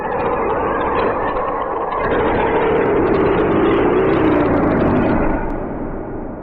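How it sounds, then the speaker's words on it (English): Red Robin skin from the Bear Alpha game lets out a long, harsh, strained shriek with a rough, noisy texture, holding loud and steady for several seconds before easing slightly at the end. "sometimes the skin will let out this horrible pained shriek"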